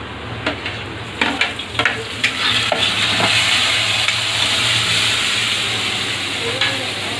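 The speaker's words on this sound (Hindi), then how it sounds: "बीन्स को मैं फ्राई करती हूँ मिंस फ्राई हो चुका है मैं इसमें डालूँ टमाटर" Beans and minced meat with tomato fry and sizzle in a pan, a steady close hiss with a few scraping stir clicks early on and no talk over it.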